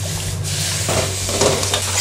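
Lemongrass chili paste being stir-fried in a hot pan, giving a steady close sizzle with scraping stirring strokes throughout, no voices.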